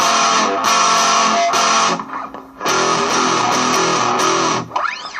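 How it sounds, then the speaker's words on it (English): A heavily distorted electric guitar with very high gain, recorded on a phone, rings out in sustained, saturated chords, with a short pause midway before the crunchy tone returns. "This is really, really high gain."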